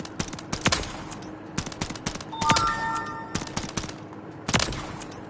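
Single semi-automatic shots from the Renetti pistol, fitted with an aftermarket semi-auto conversion, in Modern Warfare 3: sharp, close, irregularly spaced cracks in small clusters, with brief ringing tones between them.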